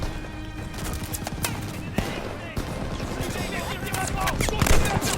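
Kar98 rifle and other gunfire in the Call of Duty Vanguard video game, a rapid scatter of sharp shots and bursts over battle noise, with a sharper crack near the start and busier firing toward the end.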